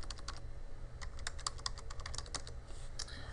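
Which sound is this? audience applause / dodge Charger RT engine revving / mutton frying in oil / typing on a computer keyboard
typing on a computer keyboard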